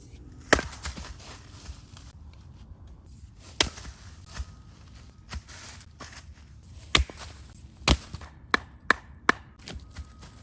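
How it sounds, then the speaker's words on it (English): Wood being chopped for a campfire at a winter campsite in Kentucky: a series of sharp, separate axe strikes spread unevenly over a quiet outdoor background, with a quick cluster of blows near the end. "I'm gonna go ahead and start chopping some wood for my fire tonight."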